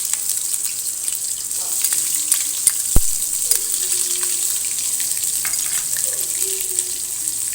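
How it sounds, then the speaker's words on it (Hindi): Ginger garlic paste hits hot oil in a pot for mutton karahi and sizzles steadily, a bright continuous hiss heard up close, with a brief clink partway through. "ये आप देख सकते हैं जिंजर गार्लिक पेस्ट है 2 टेबल स्पून भरकर, ये इसमें चला जाएगा"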